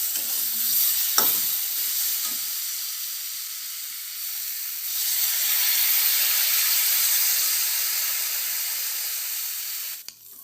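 Water poured onto fried potato and cauliflower in a pan for a rohu fish curry sends up a loud hiss of steam and sizzle that swells, then fades and dies away near the end.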